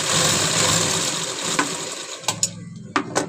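A sewing machine runs a straight stitch along the waistband of a dhoti salwar with a steady mechanical whir, then stops, followed by a few sharp clicks and taps.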